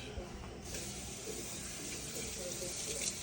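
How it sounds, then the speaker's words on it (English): Tap water runs over a cutting board being rinsed in a sink, a soft, steady splash heard faintly throughout. "Rinse my board."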